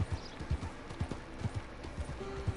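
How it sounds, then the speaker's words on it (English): An old horse is ridden in Red Dead Redemption 2, its hooves clip-clopping in a steady, moderately loud rhythm of paired strikes. Faint background ambience sits under it and there is no speech. "riding the old horse"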